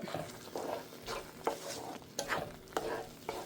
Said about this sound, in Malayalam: ഈ തിളച്ച വെള്ളം ഒഴിക്കുമ്പോഴാണ് നമ്മുടെ റവ വേവുന്നത്